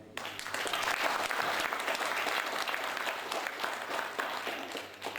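Loud, sustained applause from an audience at a Barbórka miners' celebration concert in Brzeszcz, a dense wash of clapping that runs steadily throughout.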